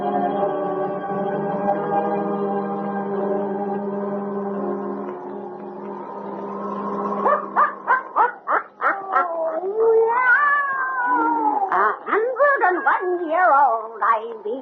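A black cat in an old radio horror drama set around a witch of Salem gives a long droning cry, then a run of wavering, rising and falling yowls and meows, loud and close.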